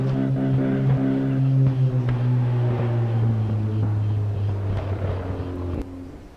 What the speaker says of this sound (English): you could actually hear right there the engine just going absolutely nuts after that happened